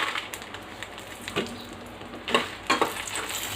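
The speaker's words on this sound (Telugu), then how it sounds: "1 స్పూను ఆయిల్ హీట్ ఎక్కిన తర్వాత ఎండుమిర్చి వేయించుకుందాం" Dried red chillies frying in a spoonful of hot oil for gongura chutney, a soft continuous sizzle with a few sharper crackles and stirring scrapes close by, no talk.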